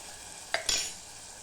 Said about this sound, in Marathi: आता यांना छान परतून घेते